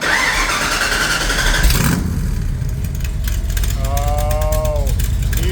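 A 1965 Shelby AC Cobra cranks with a ratcheting starter whir, then catches and settles into a loud, steady, close idle that fills the rest of the stretch.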